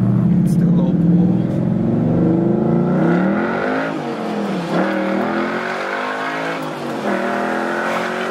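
A V8 muscle car with long-tube headers and Corsa Extreme exhaust pulls hard, its engine note climbing steadily through the revs, loud and close, then easing off as a voice talks over it.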